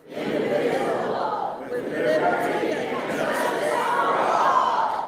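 A restless crowd fills a city council meeting room with steady overlapping chatter and murmuring, some scattered chuckles and a faint thud among the many voices, dense and continuous.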